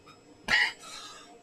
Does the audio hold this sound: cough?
yes